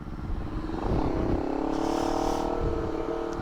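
A Honda CBR 250RR motorcycle engine revs up from idle to a smooth, sustained higher pitch. The sound is close and fairly loud, with some mechanical clatter underneath.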